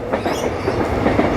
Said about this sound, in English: Again, sorry about the train.